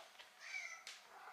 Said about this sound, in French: j'ouvre à mon chat, viens la Gucci,